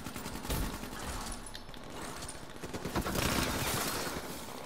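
Rapid gunfire from Black Ops 3 during a wall run, a dense fusillade of shots at moderate level, with bursts rising toward the end amid in-game effects and no talking.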